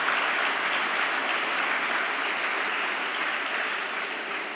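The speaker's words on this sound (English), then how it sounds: "we should clap for our Indian cricket team once here" Sustained applause from a school audience clapping for the Indian cricket team after a World Cup win, a dense even wash of many hands held steady throughout with no voices on top.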